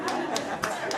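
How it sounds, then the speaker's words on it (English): An audience at a youth summit claps for a panel, with brief quick claps mixed with light chatter and a few chuckles. "one more round of applause for the panel"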